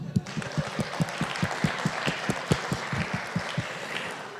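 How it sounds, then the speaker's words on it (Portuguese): Audience clapping in a steady rhythmic beat, each clap sharp and evenly spaced, fairly faint and continuing alone for a few seconds. "Palmas."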